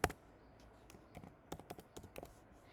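Quiet typing on a computer keyboard, a sharp first keystroke followed by a short pause and then a brisk, irregular run of soft key clicks, close up with no talk.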